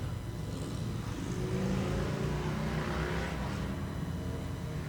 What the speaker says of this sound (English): I just witnessed loud motorcycles